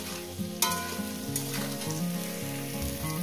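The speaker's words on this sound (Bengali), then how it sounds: "বেগুনটাকে সুন্দর করে 5 মিনিট ধরে আমি এটাকে সুন্দর করে ভেজে নেব" Eggplant frying in oil in a pan, a steady bright sizzle running throughout, with sustained musical tones playing underneath.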